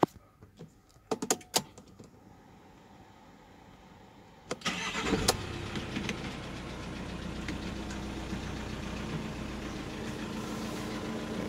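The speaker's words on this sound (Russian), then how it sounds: "Так, сейчас заведу." A Volkswagen Crafter van with 132,000 km on it gets a few clicks and rattles before the engine cranks and starts, then settles into a steady, low idle that continues to the end.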